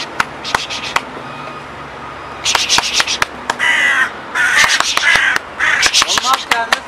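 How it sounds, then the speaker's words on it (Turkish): Several crows, including a mother protecting an injured chick, caw loudly in repeated harsh bursts, close by, with sharp clicks and knocks scattered between the calls. "Burada kargaların çok gürültülü bir şekilde ses yaptığını duydum."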